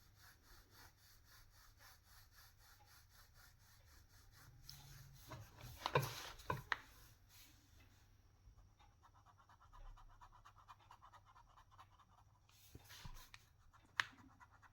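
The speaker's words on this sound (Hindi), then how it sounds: "बस पेपर पे पेन को चलाना है अपने थोड़ी देर, कुछ डिज़ाइंस बना सकते हैं" A pen scratches across paper while doodling designs, faint close strokes and rubbing in irregular bursts, with a few louder scrapes and taps scattered through a quiet background.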